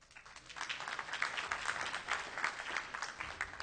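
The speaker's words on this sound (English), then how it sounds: "I always find it fascinating which things people applaud at when I give this talk." Conference audience at DrupalCon Los Angeles applauding during a Drupal 8 talk, a dense, fairly loud burst of many hands clapping that swells and holds steady.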